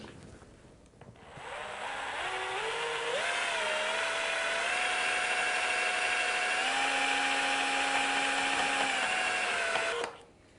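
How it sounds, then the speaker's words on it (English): A power drill with a paddle attachment churns white paint in a bucket, a steady whining motor hum that ramps up after the first second, holds for about eight seconds with slight pitch shifts, then cuts off. "There you can see the paint mixing."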